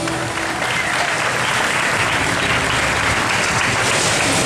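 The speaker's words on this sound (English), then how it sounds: "Give them another round of applause, folks" Loud, sustained applause from a live audience at a Fear Factor stage show at Universal Studios Orlando, a dense continuous wash of clapping and crowd noise throughout.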